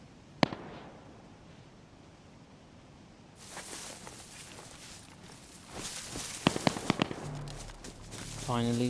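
Several sharp distant gunshots crack out in the DayZ video game, a lone report early then a scattered burst later over steady ambient hiss, with a faint voice near the end.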